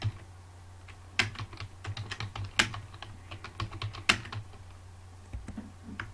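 Someone typing on a computer keyboard while working in MS Word, producing irregular crisp key clicks with a few sharper, louder strokes, close up in a quiet room.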